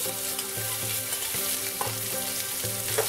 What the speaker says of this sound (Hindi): जब घी गर्म हो जाए तो आप प्याज ऐड कर दें